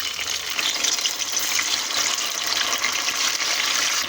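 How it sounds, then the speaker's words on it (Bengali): Pieces of ubla bati dough dropped into hot frying oil in a kadai, giving a steady, loud hissing sizzle that fills the whole stretch with no talking. "এই যে এটা এখন বাটিটা ঢেলে দিছি তেলের মধ্যে"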